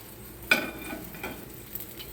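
Fish pieces fry in a pan in a village kitchen, with one sharp clink of a utensil turning them, then a soft steady sizzle and a couple of faint scrapes, close by with no talk.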